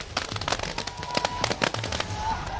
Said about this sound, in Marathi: फटाके फोडले जात आहेत।